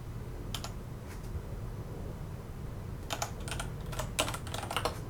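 Computer keyboard typing a folder name, faint quick bursts of key clicks in two clusters over a low steady hum.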